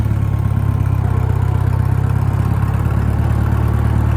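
A John Deere 2010 tractor's engine runs steadily in first gear, a loud, close, continuous low idle with an even rumble and faint clatter throughout, with no talking.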